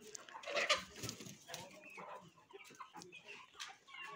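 Adler chickens on a farm cluck softly in short irregular bursts, close but quiet, with faint background noise.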